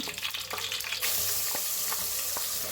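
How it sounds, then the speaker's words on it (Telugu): Ground masala paste hits hot oil with curry leaves and dried red chillies for a Rayalaseema fish curry, bursting into a loud, steady sizzle after a second of quieter spattering and stirring clinks, with no talking. "ఇదిగోండి ఆయిల్లో కరివేపాకు ఎండుమిర్చి ఇప్పుడు మసాలా వేసేస్తుంది మనం గ్రైండ్ చేసుకున్న మసాలా"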